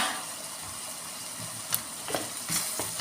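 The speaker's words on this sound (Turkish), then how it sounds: "Şöyle tereyağını da ilave ediyorum." Butter meets a hot pan while tomato pilaf cooks, giving a soft, steady sizzle with a few sharp clicks of a utensil against the pan, and no talking.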